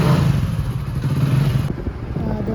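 A motorcycle rumbles steadily nearby as a rider sets off on a short ride, its low engine note continuous for a couple of seconds alongside light clatter and thumps.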